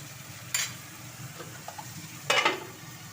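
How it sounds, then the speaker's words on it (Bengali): Spices with turmeric and salt being stirred and sautéed in a pan, two brief scraping stirs over a low, steady sizzle, with no voices. "পরিমাণ মতো নুন দিয়ে কষিয়ে নেব"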